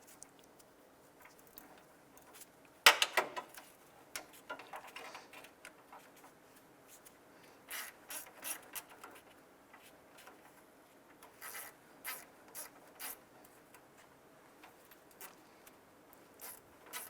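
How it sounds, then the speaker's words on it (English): Radiator hose clamps on a 2001-2005 Honda Civic are tightened by hand, giving one sharp clatter and then a series of short ratcheting, rasping bursts spaced a second or so apart, quiet and close. "let's go ahead and snug down our hose clamps"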